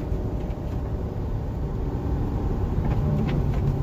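A Chevy 3500 pickup truck with a plow attached downshifts while driving down a road, a steady low engine rumble running the whole time, rising slightly toward the end.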